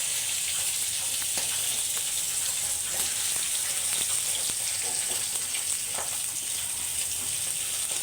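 Fish frying in hot oil, a constant close sizzle with light crackles and occasional soft taps, steady throughout with no voices.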